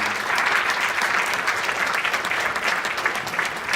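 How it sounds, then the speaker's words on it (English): Audience at a middle school 8th grade concert band performance gives a steady, dense round of applause, sustained evenly throughout with no talking over it. "can we have a round of applause for our band booster representative"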